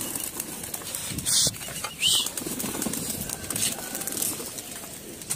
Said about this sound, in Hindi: कबूतर उठा दिए उस्ताद ने आज।